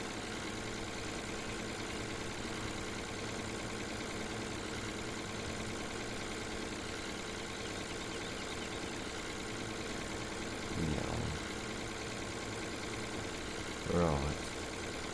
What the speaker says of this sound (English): Now the engine noise on this seems to only be like one note.